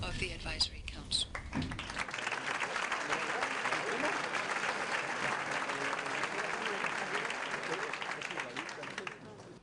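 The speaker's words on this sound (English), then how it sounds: "the Vice President received a thunderous applause before addressing the meeting" A meeting audience gives the Vice President of Gambia sustained applause, a few sharp opening claps swelling into dense, steady clapping that holds before fading at the end, faintly heard.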